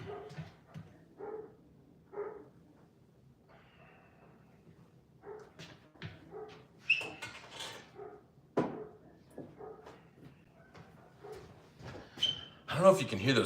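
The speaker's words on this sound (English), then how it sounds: "I don't know if you can hear those dogs outside, but they're going nuts" Dogs barking outside, scattered sharp barks and yips spread across the stretch, moderately distant, some overlapping, with occasional quieter sounds between.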